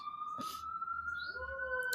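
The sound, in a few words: emergency vehicle siren passing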